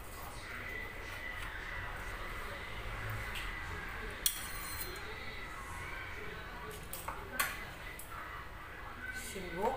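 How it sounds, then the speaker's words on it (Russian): Utensils softly clink against a plate while vegetables are laid out beside yogurt, producing a few faint, scattered taps over low room noise, with someone speaking throughout. "И сейчас буду выкладывать наши овощи."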